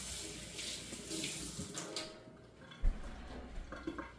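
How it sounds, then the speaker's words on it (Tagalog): Tap water runs into a kitchen sink during handwashing before making leche flan, a steady close hiss with a few small knocks and splashes. "maghugas muna tayo ng kamay"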